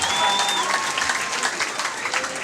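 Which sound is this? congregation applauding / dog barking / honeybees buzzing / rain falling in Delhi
congregation applauding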